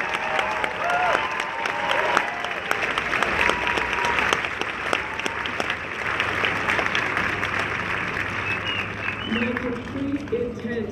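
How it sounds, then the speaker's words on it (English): Crowd applause at an outdoor rally in Denver, sustained clapping with cheers and scattered voices, a broad wash of sound lasting throughout with people talking over it toward the end. "Give yourself a round of applause."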